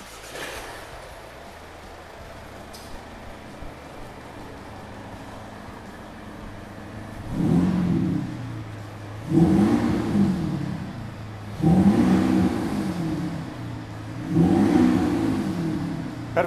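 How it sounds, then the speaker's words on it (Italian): A Mercedes diesel engine fitted with a Maxhaust Active Sound Booster revs up four times in succession, each loud, deep sporty burst rising and falling after a quiet idle, with no talking. "abbiamo montato lo stesso sistema, quindi Active Sound Booster della Max House, anche in questo caso è plurimodulabile"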